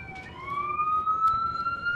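A single emergency siren wails nearby, one long rising tone that sweeps steadily upward and holds loud above a low rumble of background noise, with no one speaking.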